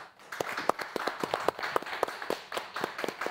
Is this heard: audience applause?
yes